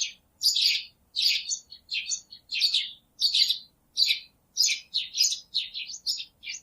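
Repeated bright chirping of a small bird in a children's Barbie doll story scene, about a dozen quick tweeting bursts in steady succession, clear and fairly close with no talk over them.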